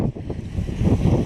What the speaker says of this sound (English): It's kind of windy out, so I don't know if you'll be able to hear me.